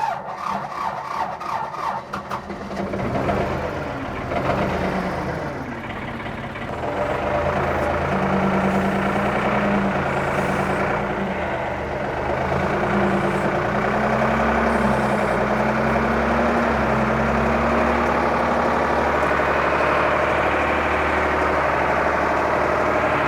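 A mini excavator's engine runs at a tree-removal and pond-building site, giving a steady, close, droning rumble. Rasping, scraping noises come through in the first few seconds, and no one speaks.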